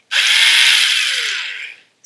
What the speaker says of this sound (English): We're going to be using a drill.